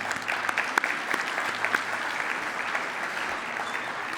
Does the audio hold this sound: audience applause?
yes